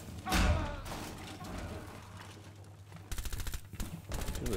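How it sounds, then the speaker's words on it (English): Bursts of automatic gunfire in the tactical shooter Rainbow Six Siege, a heavy shot early on followed by rapid, rattling volleys near the end, with a player's voice talking over parts of it. "People are shooting."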